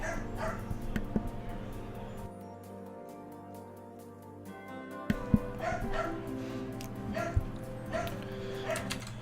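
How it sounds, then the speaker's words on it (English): Dogs at home barking and yipping in sharp, repeated bursts with some whimpering, fairly near, dropping quiet for a couple of seconds midway before the barks resume. "Sorry, my doggies are barking."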